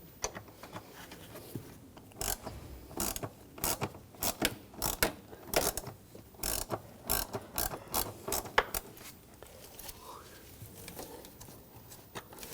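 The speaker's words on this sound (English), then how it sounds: "And take the other screw out." A ratchet removes the screws from the mass airflow sensor on a 2009-2013 BMW 328i xDrive, sounding as rapid bursts of close, sharp clicking with brief pauses between them, under faint background talk.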